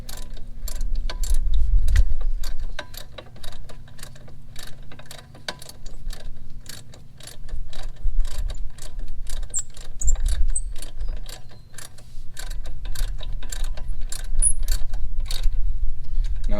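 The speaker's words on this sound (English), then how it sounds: "A ratcheting wrench does come in handy," Ratcheting wrench loosening bolts on the brakes of a Buick Lucerne: a long run of rapid, evenly spaced clicks, close and clear, with brief pauses and a low rumble under some stretches.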